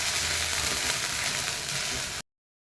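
Onion, ginger and garlic paste frying in a pan for an egg masala, giving a dense, steady sizzle that runs loud and close, then cuts off abruptly.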